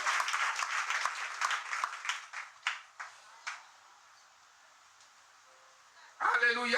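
A church congregation applauds Jesus in a French-language service, dense clapping that thins into a few scattered claps and fades to near silence before a voice speaks.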